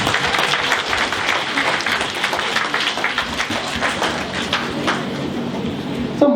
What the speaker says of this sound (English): Give a clap to Dr. Ramsan.